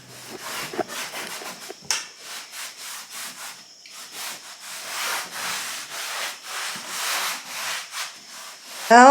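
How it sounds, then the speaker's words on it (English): Four-foot wooden boards with mildew being sanded by hand: close, steady rasping strokes in a quick repeated rhythm, with a brief sharp squeak at the very end. "Now it's time to sand them, get them smooth."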